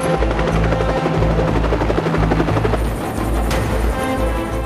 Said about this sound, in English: a squad of 4 Little Bird helicopters, backed up by 4 Black Hawks, launches from naval vessels